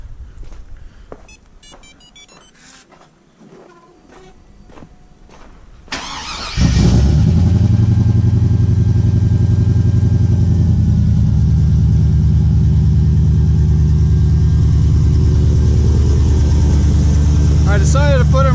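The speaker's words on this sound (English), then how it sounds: "Get one last cold start of this thing before we pull the engine." A Chevy 1500 truck engine turns over with clicking and cranking, then catches and settles into a loud, steady, close cold idle that holds to the end, with a voice over the starting.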